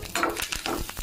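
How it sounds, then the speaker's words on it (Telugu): Mustard seeds, cumin, curry leaves and garlic crackling in a little hot oil for a spicy tomato rasam tempering, a short close burst of sizzling and popping spatters with nobody speaking. "అందులో ఆవాలు, జీలకర్ర, కరివేపాకు, వెల్లుల్లిపాయలు వేసి"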